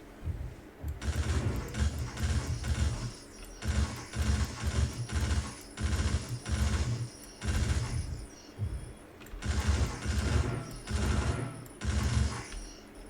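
A shotgun and other weapons fire in the video game Outcast Second Contact, with loud, dense bursts of booming shots repeating rhythmically in clusters with brief pauses and no talking.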